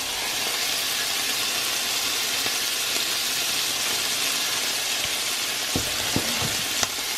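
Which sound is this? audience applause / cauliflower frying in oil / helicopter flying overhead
cauliflower frying in oil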